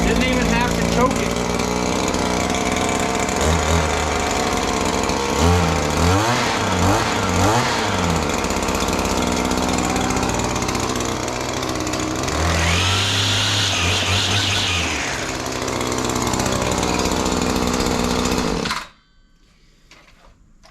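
A gas string trimmer engine runs loud and steady close by, started without priming or choking, its pitch surging in two stretches of revving before cutting off abruptly near the end.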